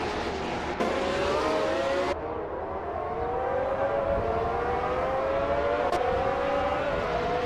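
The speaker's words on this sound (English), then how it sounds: "the race has just kicked off at Autodromo Riccardo Paletti" Race cars, among them a classic 1971 McLaren M19A, start a video game race at Autodromo Riccardo Paletti. A loud, steady engine roar holds throughout, with rising and falling whining pitch lines as the cars accelerate.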